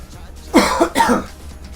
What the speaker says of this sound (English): Oh, don't tell me you're getting a cough back.